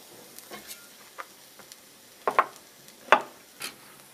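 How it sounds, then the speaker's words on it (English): Tempeh browning in a pan for a shiitake mushroom stir fry gives a soft sizzle under a series of intermittent scraping stirs and a few sharper clicks of the utensil, fairly close and quiet overall; no speech. "While the tempeh is browning"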